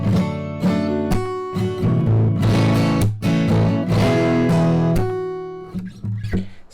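Fingerstyle acoustic guitar plays using an open fan strumming technique, with rapid rhythmic strums and percussive hits in a busy, driving pattern, close and full, fading into a few lighter notes at the end.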